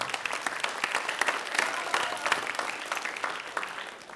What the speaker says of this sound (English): So give a round of applause for all of them as well.